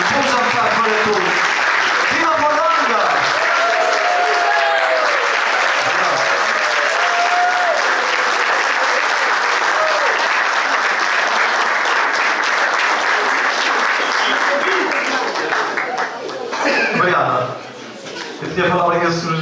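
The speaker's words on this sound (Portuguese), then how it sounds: "uma enorme salva de palmas" Dinner guests at a banquet for a local philharmonic band give a long, loud round of applause, dense sustained clapping with cheers and murmured voices mixed in, tapering briefly near the end.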